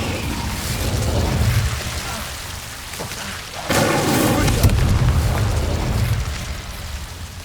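The Incendio fire spell is cast in Hogwarts Legacy on PS5. It sounds like a deep, rumbling roar of flame that swells suddenly midway and stays loud before easing off, over a constant noisy game background.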